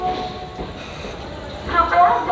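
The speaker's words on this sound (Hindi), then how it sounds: "तो ये सामने वाले प्लेटफॉर्म पे आ चुकी है हमारी कोल्हापुर गोंदिया महाराष्ट्र एक्सप्रेस" Kolhapur–Gondia Maharashtra Express standing at an opposite platform, its locomotive not yet coupled; a steady rumble of railway station noise with a slight swell near the end.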